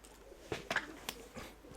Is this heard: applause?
no